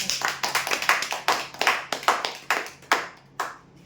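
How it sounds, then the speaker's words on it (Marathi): A small audience claps for the winner of a weekly customer prize draw, a short round of brisk, uneven clapping heard up close that slows into a few scattered claps and dies away, without any voices. "जोरदार टाळ्या होते"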